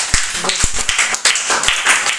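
A class of second-grade pupils clapping for a student, a short burst of quick uneven claps, close and fairly loud, with a faint voice in the background.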